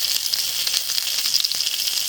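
Sausages crisp up in a frying pan over a Trangia camping stove on gentle heat, giving a steady, close, loud sizzle with fine crackling pops throughout.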